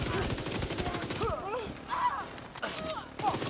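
Rapid video game gunfire shooting at spawning enemies, a dense stream of loud cracks and bursts mixed with electronic warbling effects, continuous throughout.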